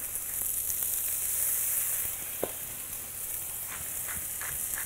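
Carrots fry in a ripping-hot pan with salt and pepper, giving a steady, close, bright sizzle with a few small crackles and pops and no talking.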